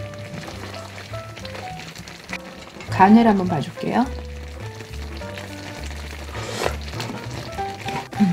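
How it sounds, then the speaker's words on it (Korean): Cream sauce with lobster ravioli and chopped parsley simmers and gently sizzles in a pan as it is stirred, a steady low bubbling under a person speaking. "소스랑 자작하게 익어가고 다진 파슬리 저어줄게요"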